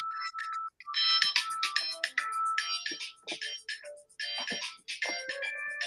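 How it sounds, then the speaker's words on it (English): A mobile phone ringtone plays a bright melodic electronic tune through a video call, repeating its phrases for several seconds with brief gaps, no talking over it. "Somebody's phone."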